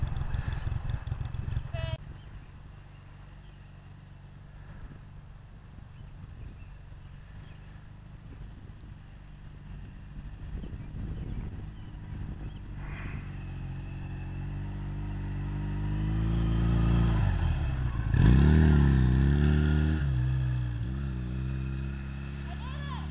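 A motorcycle pulls away as a novice rider shifts gear, its engine note rising steadily and growing louder near the end, with wind noise buffeting the microphone.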